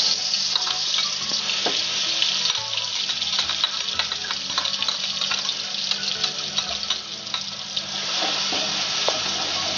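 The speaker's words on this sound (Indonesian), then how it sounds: "kita oseng-oseng dulu bumbunya" Ground spice paste stir-fried in about three tablespoons of hot oil for an Indonesian tempeh and quail egg vegetable dish, giving a loud, continuous sizzle with scraping stirring strokes throughout and no voices.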